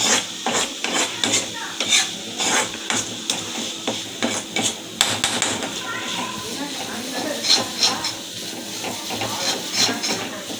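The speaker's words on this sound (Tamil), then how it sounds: "அந்த பச்சை வாசனை போடுறதுக்கும் வதக்கணும்" Vegetables sautéing in a pan, with a steady hiss and sizzle under repeated rhythmic scraping and knocking of a stirring spoon, close by, while a voice talks over it.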